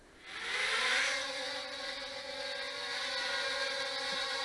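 A Hubsan X-4 quadcopter drone spins up from the ground on low rates, its small motors rising into a steady high-pitched buzzing whine that stays fairly close and even.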